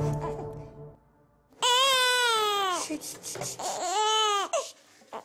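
A newborn baby wails loudly in two long, rising and falling crying bursts close by, after a quieter stretch at the start with a faint voice.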